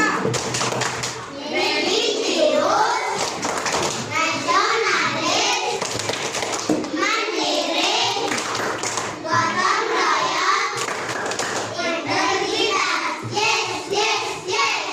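Schoolchildren in an Indonesian classroom perform the PPK clapping routine, chanting together while clapping in quick rhythmic bursts with brief pauses, loud and close throughout.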